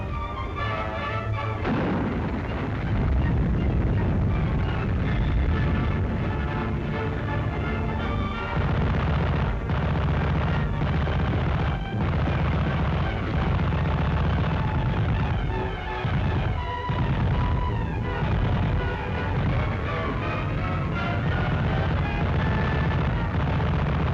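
A World War II artillery barrage in Sicily in 1943 fires continuously, heavy booms and cracks piling into a dense, loud roar that never lets up, heard through an old newsreel soundtrack with no talking.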